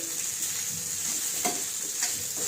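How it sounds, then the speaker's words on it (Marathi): Sabudana khichdi sizzles steadily in a hot pan while a spoon stirs it, giving a continuous close frying hiss with a few soft scraping strokes and no talking. "आता मीठ टाकल्यानंतर व्यवस्थित आता मी साबुदाणा मिक्स करून घेणार आहे."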